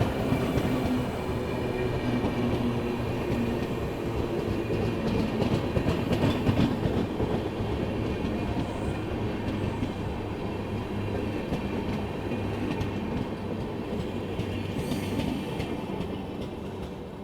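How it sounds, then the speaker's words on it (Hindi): The Purushottam Express rolls past on a foggy day with a continuous rumbling roar of wheels and carriages, steady and fairly close, holding at an even level throughout with faint clacking rhythm. "ये गई अपनी पुरुषोत्तम एक्सप्रेस"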